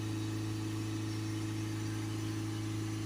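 Diesel engine of a Ford Transit Custom van with a blocked DPF, running steadily with a low, even drone and a constant hum, close and alone, with no clear rise in revs.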